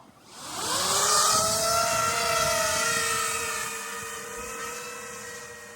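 An FPV drone arms and takes off, its motors rising into a loud, steady whine with gliding harmonic tones that climb and then hold as it flies off, gradually fading slightly.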